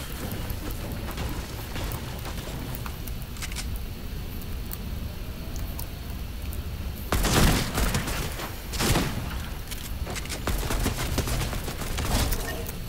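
Gunfire in Fortnite, a low background of game noise broken by a few sharp, loud bursts of shots around the middle and later, with no talking.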